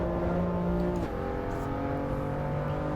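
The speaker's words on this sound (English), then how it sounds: "ACC did really well, but the engine sounds seem to be a lot better." Race car engine in Assetto Corsa Evo, a loud sustained tonal drone that drops sharply in pitch at one point as if on an upshift or lift-off, then holds a steady lower note through to the end.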